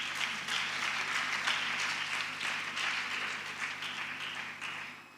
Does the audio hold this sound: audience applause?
yes